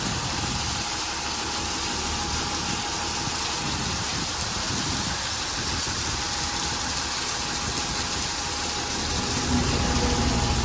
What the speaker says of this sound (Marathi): खूप भरपूर असा पाऊस येतो इकडं, पाहू शकताय तुम्ही पण.